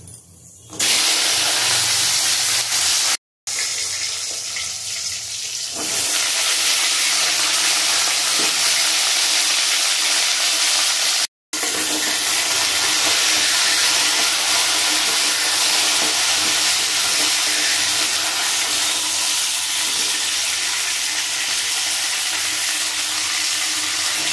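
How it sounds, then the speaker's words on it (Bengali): Flat beans hiss and sizzle loudly in hot oil tempered with nigella seeds, a dense continuous frying crackle that holds steady throughout, broken only by two brief dropouts. "শিমগুলো তেলের মধ্যে দিয়ে দেবো।"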